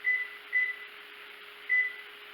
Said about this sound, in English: Going to set my timer for 25 minutes.